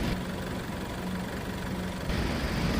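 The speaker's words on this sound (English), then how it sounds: "I am in a factory, and the diesel engine itself is loud" Steady, loud diesel engine drone filling a factory, a constant broadband rumble with a low hum and no talking.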